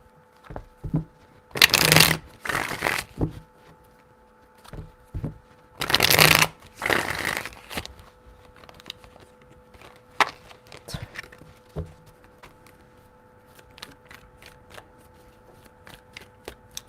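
A deck of tarot cards is shuffled three times in loud riffling bursts, each followed by light taps and clicks of cards being squared.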